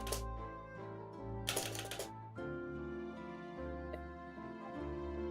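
Computer keyboard typing, a steady run of quiet clicks with a brief denser burst of keystrokes, sitting under a constant tonal background hum with no talk.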